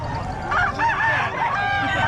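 A rooster crows loudly and close by, a drawn-out rising and falling call, with clucking around it.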